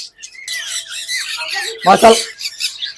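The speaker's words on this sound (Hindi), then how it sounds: "प्लम हेड जिसको हम नेपाली तोते भी कहते हैं जी" A plum-headed parakeet, also called the Nepali parrot, from a breeder pair squawks loudly in a short burst near the middle, with a person talking throughout around it.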